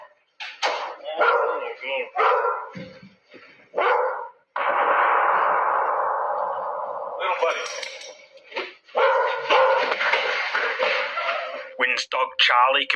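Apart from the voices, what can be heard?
dog Charlie barking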